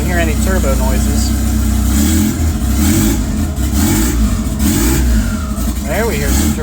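A 1984 Ford Ranger with a turbocharged 2.3L four-cylinder and blow-through Holley 350 cfm carburetor revs loudly and continuously, with brief rising turbo whistles near the start and end over the engine's heavy drone.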